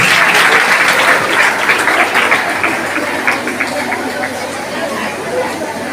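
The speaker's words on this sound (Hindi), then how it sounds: "हमारे ऐसे होनहार विद्यार्थियों के लिए एक बार जोरदार तालियों के साथ के साथ उनका सम्मान करें।" Loud, sustained applause from an audience honouring school students at a gathering, dense steady clapping that gradually thins out and fades, with some chatter mixed in.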